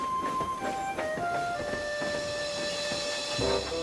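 A cartoon steam locomotive puffs along, with rhythmic chuffing and hiss under sustained whistle-like tones and music, moderately loud and steady.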